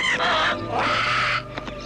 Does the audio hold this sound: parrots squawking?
yes